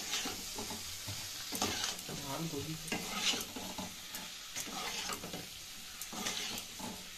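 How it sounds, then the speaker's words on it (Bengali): Pre-fried chicken pieces being stirred into a hot pan for chilli chicken, with a steady sizzle and repeated scraping strokes of a spatula close by, continuous for several seconds with no talk. "এবার আমি এর মধ্যে চিকেনগুলো দিয়ে দেবো। আগে থেকে ভেজে রাখা চিকেনগুলো দিয়ে দেবো। এগুলো হালকা করে মিশিয়ে"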